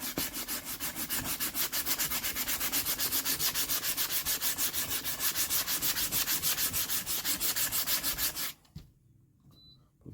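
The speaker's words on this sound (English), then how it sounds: "Just use my mouse rocket sander" A Mouse Rocket detail sander with 80-grit paper works over a sassafras acoustic guitar neck, a steady close rasping scrub with a fast buzzing pulse that runs loud and even, then cuts off abruptly near the end, leaving quiet.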